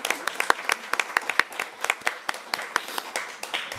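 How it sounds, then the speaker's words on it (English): Applause at a city council meeting honoring an employee of the month: a modest scattering of claps from a small group in a reverberant room, irregular and fairly quiet, with a faint voice or two underneath. "Dan, there'll be a little bit of a round of applause there."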